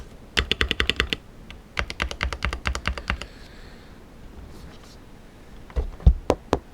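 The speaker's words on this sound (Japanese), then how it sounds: "それでは打鍵オンです。" Typing on an Ajazz AK680 keyboard modded with lead tape that adds about 80 g: close, rapid bursts of keystrokes with a muted, tapping clack, separated by short pauses.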